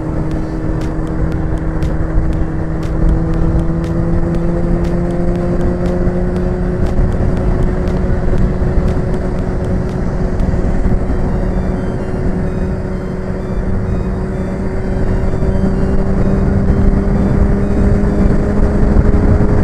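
A motorcycle engine drones steadily while riding, a loud continuous hum with gradually rising pitch and rushing wind noise throughout, no talking.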